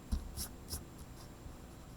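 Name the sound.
eraser rubbing out pencil line on paper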